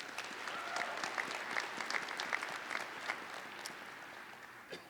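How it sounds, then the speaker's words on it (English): Graduates applauding at a university winter commencement ceremony, a sustained wash of clapping from a large crowd in a big hall, fairly distant and tapering off toward the end. "Please give yourselves a big round of applause."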